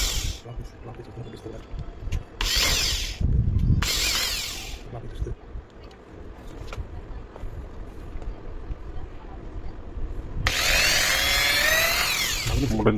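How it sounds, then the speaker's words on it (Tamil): A power drill whines in several bursts of a few seconds each, drilling a steel car number plate, with brief mechanical clicks and background rumble between them. "இது ட்ரில் பண்ணுறது பார்த்தீங்கன்னா ஜஸ்ட் ஒரு 2 செகண்ட்ஸில் ட்ரில் பண்ணி விட்ருவோம்"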